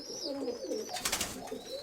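Pigeons with white plumage coo in a loft upper box, soft repeated rolling calls close by with a brief rustle of wings midway, no talking.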